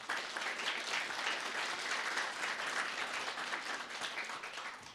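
A church congregation at a Sunday service breaks into sustained, dense applause welcoming a first-time visitor, steady and fairly loud throughout with no talk over it.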